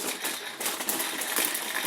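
Nacho crisps being handled: dense close crinkly rustling and light crackling, continuous and fairly quiet throughout.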